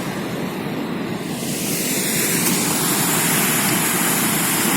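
Loud, constant roar of strong wind buffeting the microphone, rising slightly partway through, with no voices.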